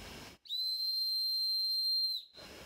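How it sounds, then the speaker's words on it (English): A small old metal whistle dug up while metal detecting near Edinburgh gives one steady, shrill, high-pitched blast lasting nearly two seconds, loud and close with nothing else over it. "There we go, a little whistle. Let's see if it still works."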